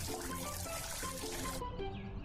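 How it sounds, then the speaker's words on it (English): Water runs from a spout into a mug, a steady splashing trickle with a faint tonal hum beneath, cutting off sharply near the end and leaving a brief quieter tail. "You can fill your mug here, says Mr. Spout."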